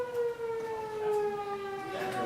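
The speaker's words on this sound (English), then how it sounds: "The siren." A siren wails outside with a steady, slowly sliding tone, heard at a moderate distance through the room's background noise.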